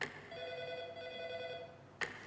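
A telephone rings during a Somali pirate hostage negotiation, one sustained electronic ring with steady harmonic tones for nearly two seconds, then a brief second burst, moderately quiet with no talk.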